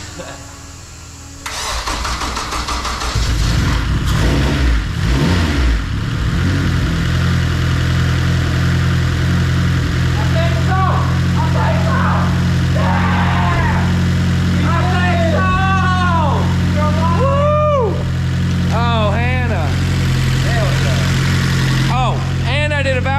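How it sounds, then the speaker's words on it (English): A Honda CRX's newly swapped K-series engine cranks, catches and settles into a steady low idle on its first start, then revs up and down repeatedly, with people talking over it. "let's actually try to start this thing for its first actual time with this engine"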